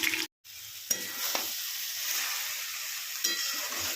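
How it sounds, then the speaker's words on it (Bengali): Potatoes and cabbage fry in a wok with a continuous sizzle and intermittent stirring scrapes, after a short silent gap near the start. "আলুটা একটু ভাজা ভাজা করে বাঁধাকপির ঘন্ট"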